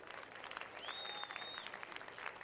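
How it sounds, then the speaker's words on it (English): Audience at a NABBA Universe 2009 bodybuilding and figure show claps for the stage finalists, a soft, distant, steady applause with a thin whistle or tone running through it. "big round of applause for our finalists"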